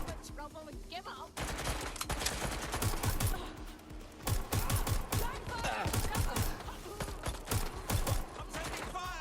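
Rapid bursts of gunfire crackle in the video game Watch Dogs Legion, dense repeated shots over game ambience and voices talking.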